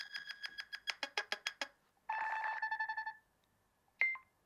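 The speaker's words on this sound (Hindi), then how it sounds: "10 अलग अलग रिंगटोन्स बना रखे हैं एंड इसमें सब में काफी इंटरेस्टिंग सा पैटर्न होता है।" Nothing Phone 2a ringtone playing quietly: a quick run of about ten sharp electronic beeps, then a longer buzzy chime, and one last short tone after a pause.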